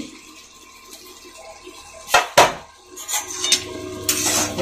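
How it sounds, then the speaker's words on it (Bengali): A metal lid comes off a cooking pot of softened tomato chutney with a couple of sharp clanks and clatter, followed by softer utensil rattles and handling noise nearby. "ঢাকাটা তুলে নিচ্ছি।"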